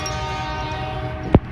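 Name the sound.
train horn passing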